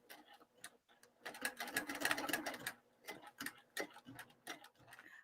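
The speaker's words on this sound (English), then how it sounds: "I'm going to sew across." A sewing machine stitches across folded lining edges in short bursts of close mechanical ticking, with a denser run in the middle and a few stitches back near the end.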